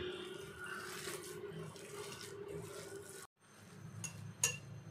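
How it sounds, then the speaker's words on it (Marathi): Water is poured into a bowl of poha batter, a soft steady trickling with a few light clinks of utensils, briefly pausing before resuming quietly nearby. "याच्यामध्ये आपण थोडंसं पाणी ॲड करूया."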